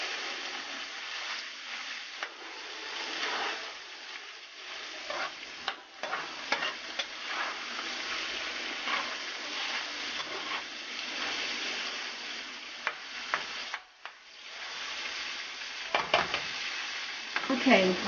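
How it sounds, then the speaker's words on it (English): Fish fries in a pot with a steady sizzle while a utensil scrapes and stirs along the bottom in short bursts, and there is no talk. "you're just going to scrape the pot just a little bit to make sure nothing's sticking"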